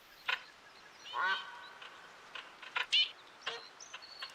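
Wild teal and wigeon ducks calling from the water, short whistled and piping notes scattered at moderate distance over a quiet wetland background.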